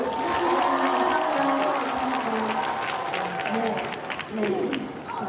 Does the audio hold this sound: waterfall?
no